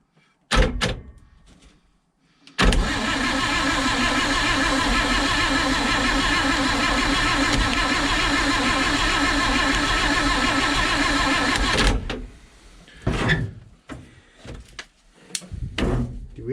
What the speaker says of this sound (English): I'm gonna do the ignition and Derek can do the carb.